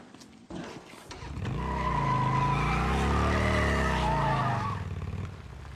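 A motorcycle in the zombie game Days Gone starts up and revs, its engine rising into a loud, sustained rolling drone with shifting pitch before easing off near the end.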